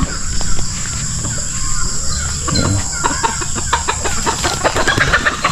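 Farmyard chickens cluck in a steady run of short calls, close and fairly loud, over outdoor background noise with a brief lower rumble midway.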